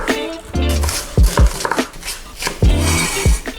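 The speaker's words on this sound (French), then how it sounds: "L'oignon. Et vous allez le tailler comme ceci," A knife thuds sharply on a cutting board, cutting an onion into large pieces for gyudon, in a rhythm of several close chops, with a little background hum.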